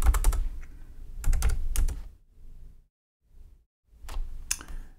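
Typing on a computer keyboard while entering a WordPress plugin search, heard as close, loud bursts of rapid key clicks separated by brief pauses and a few softer, sparser taps.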